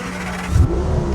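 Aston Martin Vanquish with a V12 engine in The Crew Motorfest, heard up close as a brief, loud rising rev with a deep low rumble that swells near the middle of the clip.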